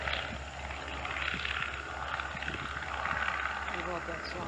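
Vintage UC-78 Bobcat airplane engine at Lake Elmo Airport, throbbing steadily with a deep, continuous drone from inside the cabin, fairly quiet and unbroken.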